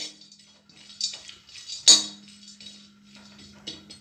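Cashews dry roasting in a pan without ghee for semolina halwa, heard as scattered metallic clinks and scrapes of a spoon against the pan, with one sharper clank midway and a low steady hum underneath.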